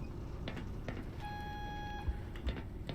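Electronic beeping inside the Black Mesa video game, a few quiet high tones with one longer sustained beep, set against faint background game noise and no talk.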